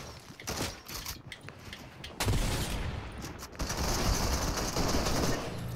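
SMG gunfire in Fortnite rattles in bursts, with sharp rapid shots and clattering building and mechanical noise mixed in, fairly close and busy throughout.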